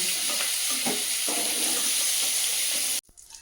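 Prawns frying in hot oil, a loud continuous close-up sizzle with faint stirring that cuts off abruptly near the end, leaving quiet room sound.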